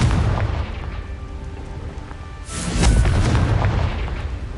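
Spell blast from a Confringo cast in Hogwarts Legacy, a loud booming explosion bursting in at about two and a half seconds and rumbling on over a steady background of game noise.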